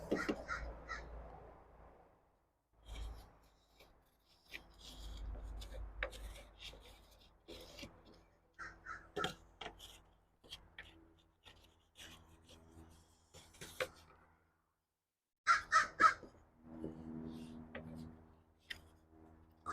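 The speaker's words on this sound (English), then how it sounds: "I don't know if you can hear the crow." A crow caws repeatedly in loud bursts near a greenhouse door being worked on, interleaved with rasping, rubbing sounds of filing wood and quiet gaps between.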